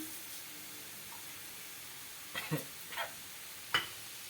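Mustard seeds and a pinch of asafoetida hit hot oil for a Usirikaya pachadi tempering, giving a faint steady sizzle with a few sharp crackles and pops near the end.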